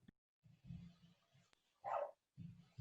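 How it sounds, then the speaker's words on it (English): A dog barks from another room in a quiet house, giving several muffled, distant barks in short bursts separated by pauses. "He's barking in the other room."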